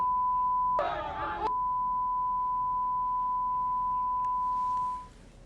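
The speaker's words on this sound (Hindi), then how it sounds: "इसीलिए हमने बीप कर दिया है उस लाइन को" A steady pure censorship beep holds under a news programme for several seconds, masking offensive words, with a short noisy burst near its start and faint hiss after it stops.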